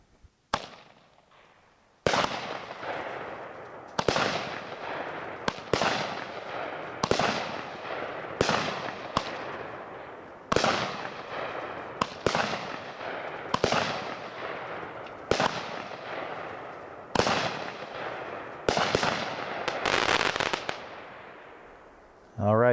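A Great Grizzly Fight Night 12-shot heavyweight firework cake fires roughly a dozen loud, sharp booms spaced about a second or two apart, each leaving a crackling tail, with a denser burst near the end.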